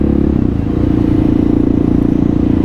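Kawasaki KLR650 single-cylinder motorcycle running in fourth or fifth gear after a rebuild, a loud, close, steady thumping engine pulse with rattly clatter, no talk over it.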